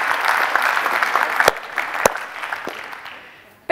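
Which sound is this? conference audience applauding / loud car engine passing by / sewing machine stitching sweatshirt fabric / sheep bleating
conference audience applauding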